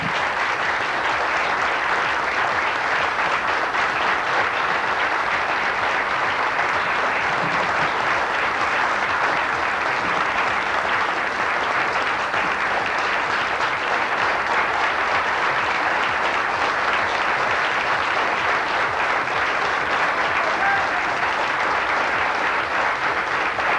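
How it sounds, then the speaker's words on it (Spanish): A standing ovation from an audience at a 2001 tribute event, sustained dense clapping that stays loud and even for over twenty seconds without talk. "Yo los invito a ponerse de pie y a dedicarle el mejor de los aplausos a nuestro querido Osvaldo Bayer."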